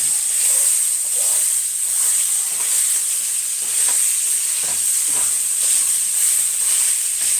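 Ground pork frying in a pan, a steady bright sizzle and hiss throughout with occasional scraping from a heat-resistant spatula breaking up the meat, close and continuous without talk.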